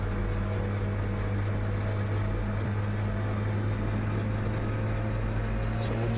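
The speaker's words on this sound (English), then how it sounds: "electric engine is on." A boat's electric engine running at full speed, a steady, unbroken motor hum with a low drone and tonal whine, constant in loudness throughout.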